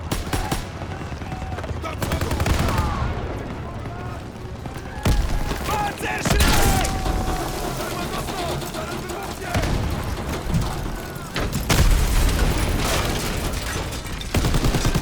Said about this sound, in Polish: Wszystko za nami wybucha.